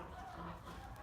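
Hens on a central Texas farm give soft, faint clucks in a brief, close burst against a low background.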